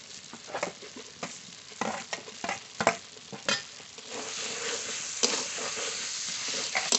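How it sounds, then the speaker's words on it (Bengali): Potatoes and fried soybean chunks being stir-fried with spices in a pan, a steady sizzle with irregular scraping stirs and spatula knocks, louder bursts early then a continuous frying hiss, no voices. "সয়াবিন আর আলু মশলার সঙ্গে ভালো করে কষিয়ে নিয়েছি"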